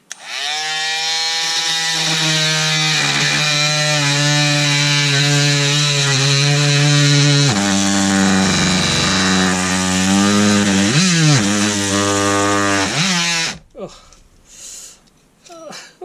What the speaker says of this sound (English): It's gone a fair way through there as a saw.